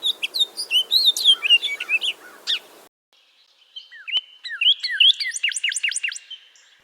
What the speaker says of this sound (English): Male house finches sing throughout the year.